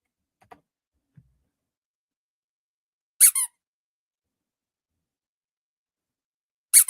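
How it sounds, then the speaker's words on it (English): Two short, bright squeaky-toy squeals sound alone in near silence, a few seconds apart, preceded by faint small clicks. "Squeaky toy noise?"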